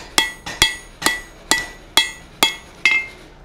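Steel is hammer-forged on an anvil while making a hammer eye drift, seven sharp ringing blows in a steady rhythm about half a second apart, close and clear with no speech.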